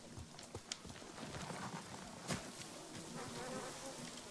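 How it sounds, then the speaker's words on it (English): Bees buzzing in the Ghost of Tsushima video game, a soft steady insect drone with a few faint thuds, quiet and even throughout. "Bees!"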